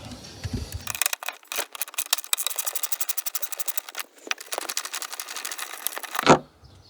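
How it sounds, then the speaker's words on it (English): Bolts are run out of the fan motor on a C4 Corvette with a powered driver, producing rapid rattling mechanical bursts that stop and start several times, fairly close and with no talking. "Now let's remove the bolts."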